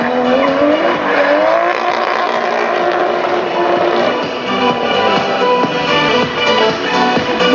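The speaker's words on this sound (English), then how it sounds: "Chris Doyle running right nice and wide on the wall there, pulling the bumper off the back of the car." A drift car at a competition qualifying run slides wide along a wall, tires squealing continuously over a loud roaring engine, close and sustained throughout.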